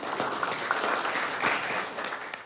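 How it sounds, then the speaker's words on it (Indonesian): Audience applause answering a call to clap during a talk about Argentina's national football team, with steady, dense clapping from many people that stays loud and continuous throughout. "Tepuk tangan buat mereka."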